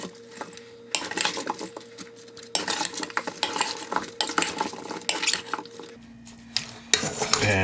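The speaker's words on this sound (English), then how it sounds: "Give those a bit of a stir." Beef short ribs and Brussels sprouts are stirred in a pan, with a utensil scraping and clattering against the metal in repeated strokes over a faint sizzle, in bursts with short pauses between them.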